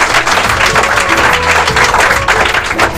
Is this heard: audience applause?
yes